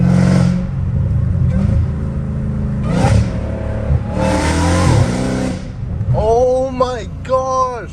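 Dodge Hellcat Redeye heard from inside the cabin, revving and accelerating hard through several bursts with a rising, high-pitched supercharger whine, loud and close, ending in sharp rev climbs with gear changes.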